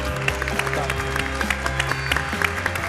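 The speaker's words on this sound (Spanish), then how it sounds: "Un aplauso para ella" Audience applause at a science and society congress, a steady patter of clapping from a crowd under a sustained musical backdrop.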